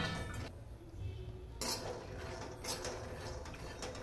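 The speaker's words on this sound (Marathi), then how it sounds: "शेंगदाणे भाजून घेते आता।" Peanuts roast in a pan as karela bhaji is cooked, with faint, scattered clinks and light scraping of stirring, quiet and close, with no talking.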